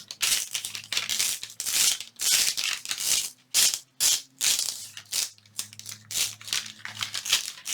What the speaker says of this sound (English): gently get it to release from the waxy side of the freezer paper